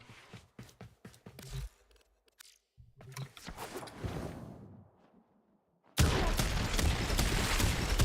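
Gunfire from a weapon in the Warframe video game: a quick burst of sharp shots at the start, then scattered mechanical clicks and a rumbling stretch, ending in a loud, dense burst of combat noise.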